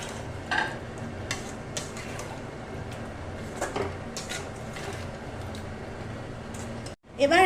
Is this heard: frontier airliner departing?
no